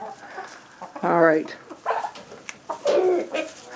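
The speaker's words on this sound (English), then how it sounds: "And now we got two hens fighting over a nest." Two hens squabbling over a nest in a cold backyard coop, with bursts of clucking and squawks up close, under a person's brief talk.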